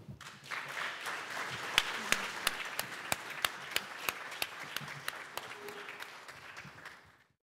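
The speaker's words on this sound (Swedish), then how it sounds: "En stor applåd" Small group applauding at the close of a Swedish entrepreneurship podcast, with a few distinct sharp claps standing out rhythmically over softer scattered clapping, fairly faint, tapering off and stopping near the end.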